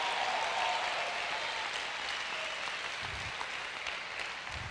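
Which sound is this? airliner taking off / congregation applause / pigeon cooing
congregation applause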